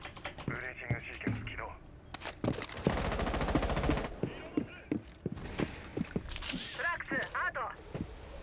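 Rapid bursts of automatic gunfire and single shots in Rainbow Six Siege, with a sustained machine-gun volley in the middle, mixed with quiet talk and clicking.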